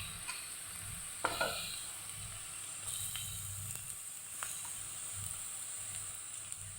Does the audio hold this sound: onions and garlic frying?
yes